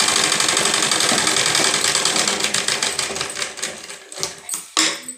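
A sewing machine stitches blouse fabric in a loud, fast, steady mechanical whir of needle strokes that slows and breaks into a few stuttering bursts near the end.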